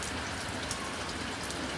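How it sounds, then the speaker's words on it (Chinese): Steady rain begins falling over rice paddies in rural western Hunan, a dense close hiss of drops without a break and with no voices. "雨来了"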